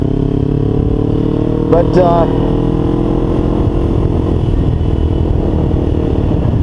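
A 2012 Kawasaki Ninja 250 motorcycle engine hums steadily at low RPM while riding. The tone is loud and continuous, and a voice speaks briefly over it partway through.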